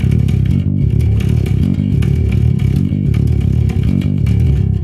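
A low, heavy, growling detuned bass guitar riff in death metal style repeats a short one-bar pattern, loud and dense, with a gritty rumble and no voices.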